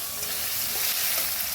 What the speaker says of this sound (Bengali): বন্ধুরা, এখন চিংড়ি মাছ ভাজা হচ্ছে